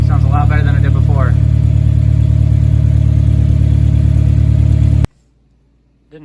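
A rebuilt Honda B18 engine idles smoothly and steadily, a loud, even drone held for about five seconds before it cuts off abruptly into near silence; a voice speaks briefly over the start.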